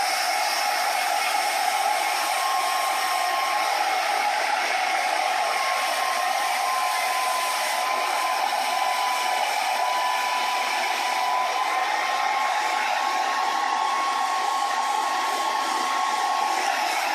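A blow dryer runs on its cool setting, a steady, loud, close whoosh of airflow with a faint whine, continuous and unbroken throughout, with no voices.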